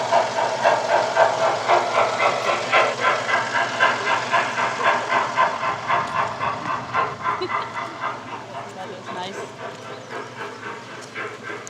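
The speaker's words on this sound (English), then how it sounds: "we took the train around the park" A small tourist train in a park in Hamamatsu, Japan chugs along with a rhythmic, puffing beat that slowly fades as it moves away.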